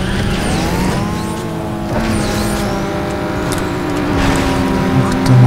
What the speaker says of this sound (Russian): Чуть дождь, у меня тачка сносится.